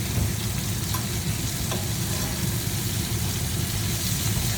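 A deer heart sizzles steadily in a hot pan after being flipped, a dense, even frying hiss with no voices over it.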